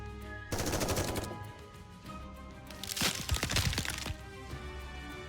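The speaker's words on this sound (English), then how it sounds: "Bullets flying from all directions slam into the ice barrier." Rapid bursts of gunfire with sharp cracking impacts against an ice barrier in the video game NIKKE, coming in two dense volleys separated by a brief lull, loud and close with no talk.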